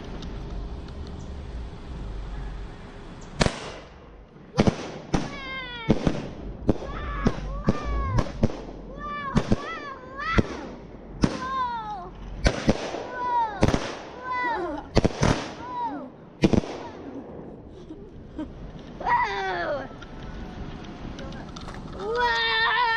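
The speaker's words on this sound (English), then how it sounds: "Firework. Here we go." Fourth of July fireworks burst in a rapid series of sharp bangs, some followed by whistling crackles, with voices chattering in the background.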